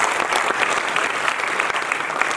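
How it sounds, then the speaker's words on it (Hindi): Audience applause at a stage play performance, dense close clapping from a crowd that holds steady for the whole stretch. "चौधरी साहब के लिए जोरदार तालियां"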